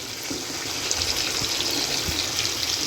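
A fried onion-spice mixture is poured into a beef brain curry, making a steady wet hiss with soft splashes and faint low knocks throughout.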